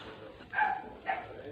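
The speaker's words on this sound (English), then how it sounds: "Doggies are still barking" Dogs bark a couple of times at moderate distance, two short separated bursts standing out over quiet room background with faint talking.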